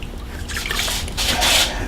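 Hot blue dye water sloshes and drips as a hoodie's hood is dipped into a bucket for ombre tie-dye, a close, wet, continuous splashing with trickling drops.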